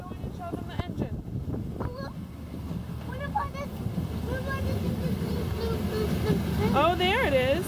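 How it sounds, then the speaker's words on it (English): Steamboat engine thrumming aboard a boat in Dresden, a steady low rumble that builds slightly toward the end, with people talking over it. "Come on, let's go in and show them the engine."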